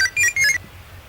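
Two short bursts of a bright electronic trill, like a phone ringtone, sounding close and clear, then it stops and quiet follows.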